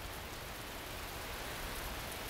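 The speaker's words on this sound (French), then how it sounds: "Par moments, le bruit est plus fort, la pluie s'intensifie." Rain falls in a steady, even hiss of drops on surfaces, soft and continuous with no voices.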